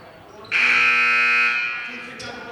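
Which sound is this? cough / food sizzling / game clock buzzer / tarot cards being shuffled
game clock buzzer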